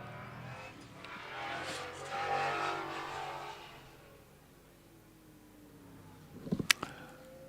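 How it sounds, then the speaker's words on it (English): A 5-litre Chevy V8 racing car from 1969 climbs a hillclimb course between farm buildings, its engine rising and fading at a distance, followed by sharp clattering bursts near the end. "James powering his way up between the farm buildings, the 5-litre Chevy V8 rumbling away."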